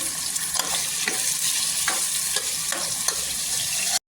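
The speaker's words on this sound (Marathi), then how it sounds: "कढीपत्ता टाकल्यानंतर आहे ना इथे मी 4 ते 5 कांदा कट करून घेतलेले आहे, ते टाकायचं." Chopped onions with curry leaves frying in oil in a pressure cooker, loud continuous sizzle close up with regular stirring scrapes roughly every half second.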